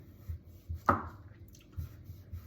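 A single crisp knife cut through a tomato being sliced thin for a homemade pizza topping, one short sharp stroke against quiet kitchen background.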